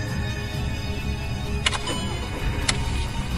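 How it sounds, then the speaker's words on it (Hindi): A car engine cranks and tries to start, giving a continuous low rumble with a couple of sharp clicks. Near and fairly loud, with no talk. "गाड़ी स्टार्ट नहीं होती।"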